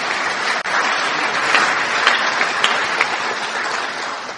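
A large audience at an AA speaker meeting breaks into steady, dense applause, loud and continuous throughout with no speech over it.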